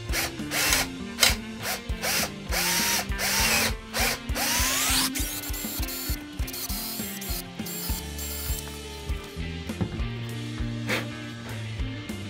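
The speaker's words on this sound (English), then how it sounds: "Again, make sure you have fairly new and good drill bits when you do this." A power drill bores a hole through a wooden guitar body, giving a continuous loud whirring, grinding drone with shifting pitch and ratcheting bursts.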